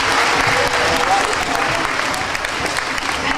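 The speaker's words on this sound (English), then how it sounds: "give yourselves a round of applause" Students and teachers at a school assembly applaud together, a dense, steady wash of clapping that fills the room at a loud, even level throughout.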